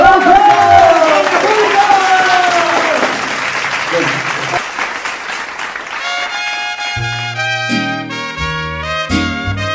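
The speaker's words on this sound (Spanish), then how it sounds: "¡Fuerte los aplausos!" Applause from a crowd at a festival in Mexico fills the first half over a loud announcing voice, fading as music with a sung melody begins.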